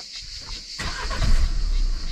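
A Renault Megane 4 with the 1.5 dCi diesel engine starts up: a brief starter crank, then the engine catches into a loud, steady rumbling idle, close by, with a voice speaking briefly before the start.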